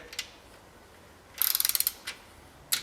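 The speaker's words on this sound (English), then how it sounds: "which is what I'm using, an inch-pound torque wrench" An inch-pound torque wrench tightening bolts during an engine and transmission install on a 1980 Chevy Silverado, giving a quick burst of about ten close, sharp ratchet clicks, with a few isolated clicks before and after.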